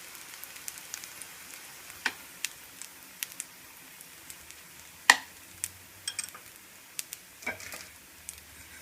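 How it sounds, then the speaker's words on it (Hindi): Maize roti cooking in ghee on a griddle over low heat gives a faint, quiet sizzle scattered with small irregular pops and crackles, with no talking. "अब एक तरफ घी लगाने के बाद हम दूसरी तरफ भी घी लगाएंगे और इसको पराठे की तरह सेकेंगे"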